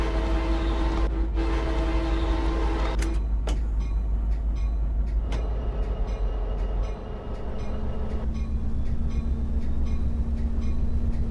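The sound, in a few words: Pacific Surfliner train running with horn, Train Sim Classic video game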